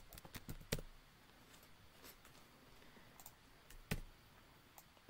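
A query is typed on a computer keyboard while writing a database command. Faint, scattered key clicks come in short irregular bursts with quiet gaps between them, with no talking.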